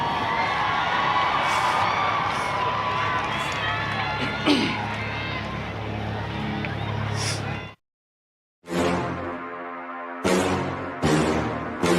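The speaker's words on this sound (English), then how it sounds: "let's give a round of applause for your Parkview Patriot Marching Band" Crowd in the stands at a Hope versus Parkview high school football game cheering and applauding for the Parkview Patriot Marching Band, a loud continuous roar with shouts and whoops, then a short silence and further bursts of cheering.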